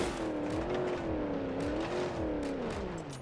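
Moonhawk car in BeamNG Drive climbing an off-road mountain slope: a steady engine drone that rises and dips in pitch as the throttle works, close and continuous, with scattered bumps and scrapes from the rough terrain.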